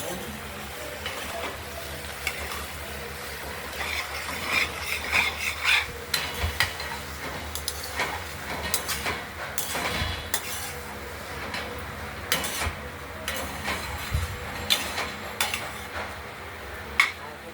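Finely chopped ash gourd (chal kumra) cooking with mung dal is stirred in a pot after the lid comes off, with repeated metallic scrapes and clinks over a steady soft sizzle and faint talk.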